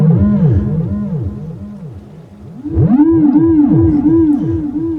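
Moog Theremini theremin playing a preset through a short delay effect, its gliding, arching tones repeating as echoes, loud and sustained throughout with no talking.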